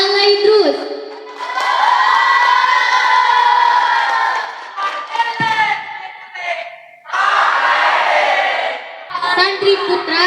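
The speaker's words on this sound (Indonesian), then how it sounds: "Tepuk tangannya untuk Kumala dari delegasi Alaidrus" Loud crowd cheering and shouting with applause for a contestant at a students' speech competition at an Islamic boarding school, swelling in bursts and briefly dipping before rising again.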